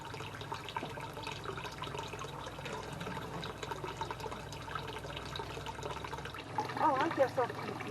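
Water runs steadily through a gold sluice set in a river, a continuous rushing and splashing wash that swells briefly louder near the end.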